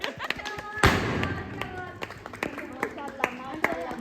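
Family members at a home cake cutting clap in scattered, uneven bursts, with a sharp thump near the start and overlapping talk and chatter throughout.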